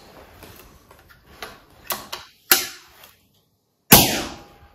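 A Daystate Huntsman Revere air rifle with a silencer fitted is fired indoors. Light mechanical clicks come first, then two sharp, muffled reports, each with a short decaying room echo, and no speech.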